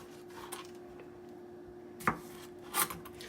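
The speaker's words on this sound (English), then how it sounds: "you're gonna want to cut off the ends of the tomato" A kitchen knife trims the ends off a washed tomato on a cutting board: a few sharp, isolated chopping taps against the board, close and clear, with quiet gaps between them.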